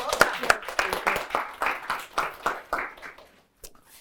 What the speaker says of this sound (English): let's give Dr. Hernandez a round of applause